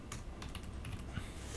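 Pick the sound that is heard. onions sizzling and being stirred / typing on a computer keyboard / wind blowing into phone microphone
typing on a computer keyboard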